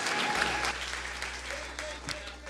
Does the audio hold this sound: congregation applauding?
yes